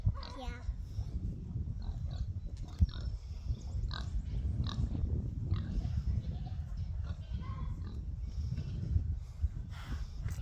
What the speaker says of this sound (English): Silly pig pig!